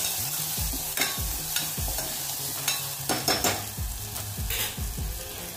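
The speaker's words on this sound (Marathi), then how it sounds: "सगळ्यात आधी मी इथं किसून घेतलेलं खोबरं घालते। त्याला व्यवस्थित परतून घेऊ।" Grated coconut with sponge gourd sautéing in a pan, with a steady sizzle under rhythmic spatula strokes scraping and knocking against the pan about once a second, close and clear, no voices.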